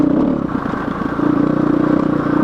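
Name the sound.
motorcycle riding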